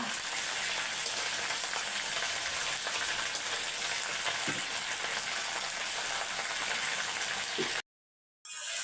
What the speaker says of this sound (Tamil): நடுவில் வந்து கருவேப்பிலையை நல்லா மிக்ஸ் பண்ணி விட்டுக்கோங்க நல்லா பொறிஞ்ச மாரி எடுத்துக்கோங்க